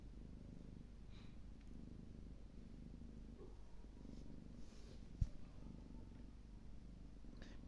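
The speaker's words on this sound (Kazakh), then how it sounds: "Мен мына мысықты өзім бір жерден тауып алдым" A rescued cat purrs very softly and steadily, a low continuous rumble close by, with one small bump partway through and no talk.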